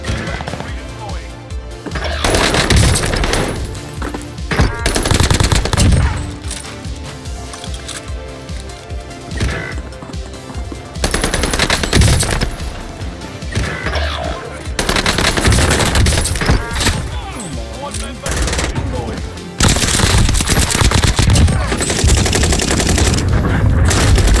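Rapid automatic gunfire from a close-range gunfight in Warzone, loud, dense bursts nearly continuous throughout with brief pauses, repeated volleys stacked on each other.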